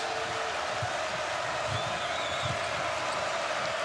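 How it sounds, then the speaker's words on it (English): A basketball arena crowd at a Purdue vs Nebraska college game makes a steady, broad roar of cheering and noise throughout, distant and diffuse, with faint squeaks and a commentator's voice underneath. "this crowd back making some noise"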